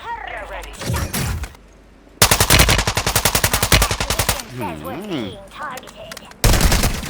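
Rapid automatic fire from a TR-76 rifle in Call of Duty Warzone 2.0, a loud, fast, evenly spaced burst lasting about two seconds, then another burst starting, with someone talking excitedly between them.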